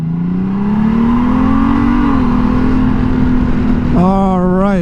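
A 2021 Honda Gold Wing motorcycle accelerates in second gear, its steady engine drone climbing in pitch for several seconds and staying loud and close. Near the end the engine note shifts sharply.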